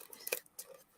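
Scissors being handled at a desk, giving a couple of short, sharp metallic clicks and snips, close but quiet, with faint rustling between them and no talking.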